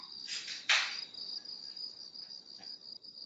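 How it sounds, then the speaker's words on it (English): Crickets chirp in a steady, faint high trill that carries on unbroken, with a couple of soft rustling thumps near the start. "That's just crickets where Rom is."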